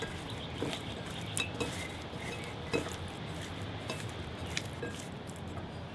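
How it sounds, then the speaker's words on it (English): Seafood coated with a tablespoon of potato starch being mixed in a bowl, soft squishing and light clinks of utensil against the dish, quiet and steady with occasional sharper taps. "I will coat them with my potato starch, 1 tablespoon. And mix."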